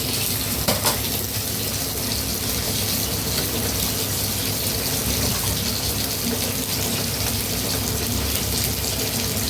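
Tap water runs in a steady, close, continuous stream into a kitchen sink while shrimp are being cleaned for home cooking, with no talk over the rushing flow.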